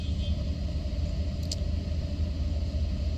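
Steady low engine rumble of off-road race cars passing at a distance during King of the Hammers qualifying, a continuous roar with no talking.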